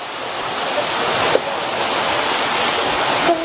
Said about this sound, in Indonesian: ini air terjun Rawa Gedenya